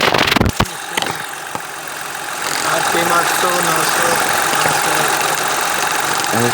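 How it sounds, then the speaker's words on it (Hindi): A Suzuki Mehran car engine idles steadily and smoothly at close range, a continuous mid-pitched hum after a few brief knocks at the start, with someone talking over it. "अब इंजन बिल्कुल स्मूथ खड़ा है"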